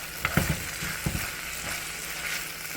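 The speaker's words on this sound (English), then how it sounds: "Okay, now we're gonna stir that up." Sloppy joe mixture with diced provolone cheese is stirred in a hot pan, giving a continuous sizzle with a few soft scrapes and knocks of the spoon early on, and no talking.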